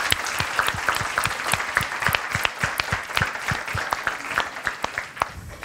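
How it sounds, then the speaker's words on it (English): Audience applause for a panel at the close of a seabased panel discussion, a dense run of sharp individual claps, moderately loud and steady for several seconds with no talk over it. "I want all of you to join me in a big applause for the panel."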